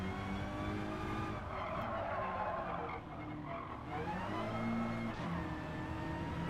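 Race cars in the Gran Turismo 7 online lobby race, engines roaring loudly and steadily with repeated tire squeal and skidding through the corners and no voices over them.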